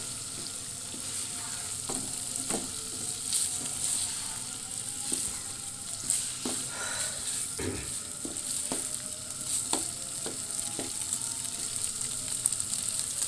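Chicken with ketchup and mayonnaise is stirred in a hot pan over a raised flame for shawarma, with a constant close sizzle and regular scraping strokes of the spoon throughout.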